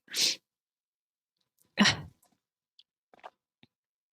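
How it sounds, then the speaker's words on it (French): A single loud sneeze bursts out near the microphone, followed after a pause by a second breathy sneeze-like burst and a few faint small sounds. "Ah non, je dois éternuer."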